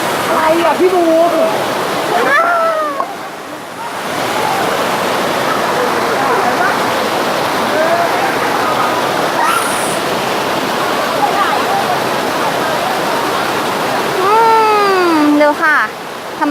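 Phlio waterfall in Chanthaburi rushes with a loud, steady broadband roar of falling water, while several people talk and exclaim over it, with a few louder bursts of voices near the end.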